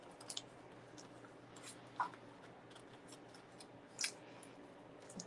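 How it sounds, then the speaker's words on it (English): Scissors trimming paper for a stamping craft project, a few sharp snips spaced a couple of seconds apart, close and quiet with light rustling between cuts. "So I got a little bit of cutting to do here, but that's okay. All right, let me just trim this down."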